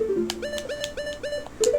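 Game bird cries from Zelda: Ocarina of Time, a series of short repeated calls set against looping game music, clear and close, with no talking.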